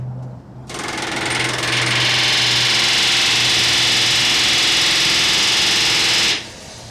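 Iron plates being riveted on a historic structure: a loud, continuous rapid hammering rattle starts abruptly, holds steady for several seconds, then cuts off, with no voices.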